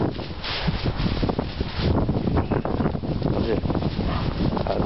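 Gusty wind buffets a microphone outdoors in uneven thumping bursts and rustling, loud and close, with a voice faintly mixed in.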